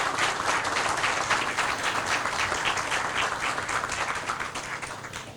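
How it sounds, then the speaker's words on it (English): Outdoor groundbreaking ceremony audience giving a sustained round of applause, dense even clapping that holds steady and fades slightly toward the end, no talking over it. "how about a round of applause for these folks right in the front row?"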